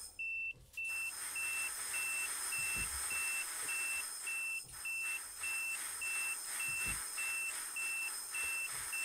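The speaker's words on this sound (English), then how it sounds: "It's beeping away, but the doors are still open." A train in the Train Simulator Classic game beeps repeatedly with its doors still open, a steady series of short, even electronic tones over a constant cab hum, loud and insistent without speech.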